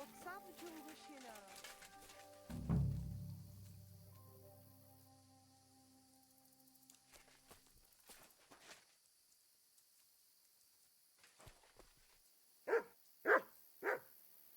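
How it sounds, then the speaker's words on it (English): A dog gives three short, sharp barks close by near the end, following quieter knocks and a stretch of low tones. "You silly mutt."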